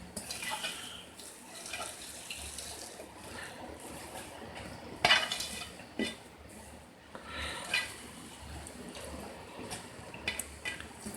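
Wet sloshing and occasional metallic scrapes of a utensil stirring a milk and china grass pudding mixture in a pot, steady and close, with faint background noise and no talking.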